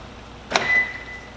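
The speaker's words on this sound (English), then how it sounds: "Lock the doors," Car doors locking during a parasitic draw test, heard as a single sharp mechanical click with a brief ringing tone trailing after it, alone in a quiet setting.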